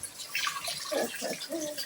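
Hot tap water runs in a steady, soft splash, close by and fairly quiet, with no talk over it.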